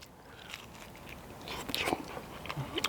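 Someone bites and chews crispy fire-cooked food at a primitive outdoor camp, with quiet crunches and soft chewing close to the mic over a faint background.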